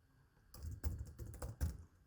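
Keystrokes clatter on a computer keyboard while an HTML form is built, arriving as a short irregular burst of close, crisp taps that starts after a brief quiet moment.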